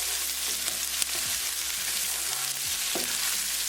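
Ginger, garlic and green chili sizzle steadily in hot oil with cumin seeds in a pan, with a close, constant frying hiss and occasional soft scrapes of stirring.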